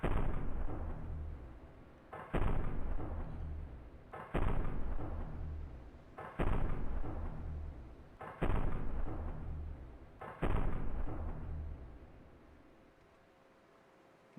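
Weapons fire in the naval combat game From the Depths, six heavy booming blasts spaced about two seconds apart, each a loud deep thud with a rumbling tail, then a fading lull.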